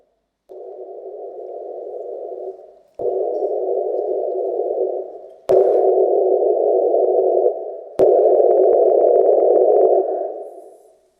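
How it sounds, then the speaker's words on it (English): A steady test noise plays in four bursts stepping up 10 dB each, starting around whisper level, separated by brief gaps and sharp clicks. "The noise that you're about to hear will step in 10 dB increments starting around a whisper."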